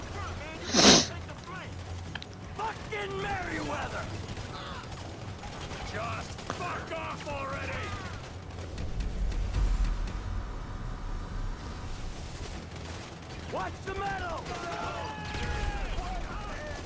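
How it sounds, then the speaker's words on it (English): In the game GTA 5, a sudden loud explosion bursts near the start, followed by scattered gunfire and mechanical clatter beneath someone talking continuously. "There was an explosion there."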